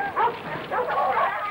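Dogs sent out with a search party give a few short yips and whimpering barks, fairly close and in brief bursts. Faint voices sit in the background.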